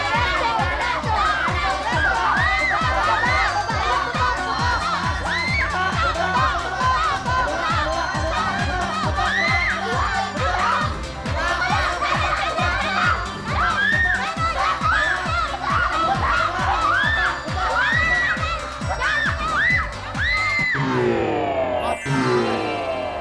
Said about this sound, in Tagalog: Nakakatuwa pa naman yung sigaw nila, oh.